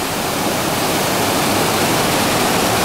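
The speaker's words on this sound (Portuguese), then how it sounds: "hoje estamos aqui na Cachoeira da Usina da Fumaça" The waterfall at Usina da Fumaça in rural Itamuri roars close and loud, a dense, unbroken rush of falling water that fills the whole clip.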